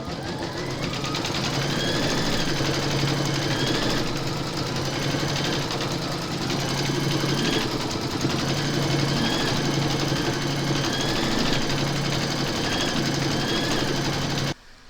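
An embroidery machine stitches a colour on a bag project with a loud, steady, buzzing mechanical whir. It runs without a break for the whole stretch and stops abruptly at the end.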